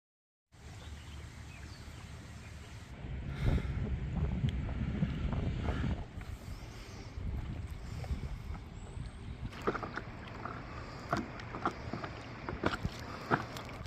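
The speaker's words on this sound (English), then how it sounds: "You go a headwind where the wind's coming towards you" Wind buffets the microphone over choppy water while paddling somewhere in the UK, a steady rushing roar with splashes and knocks of the paddle and craft growing busier toward the end, no voices.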